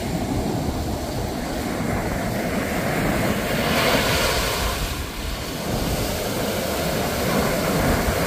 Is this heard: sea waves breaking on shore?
yes